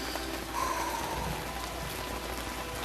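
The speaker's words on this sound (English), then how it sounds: "man, it is raining good" Heavy rain falling outside in Georgia, a steady broadband hiss of drops striking surfaces that holds constant throughout, with no voices present.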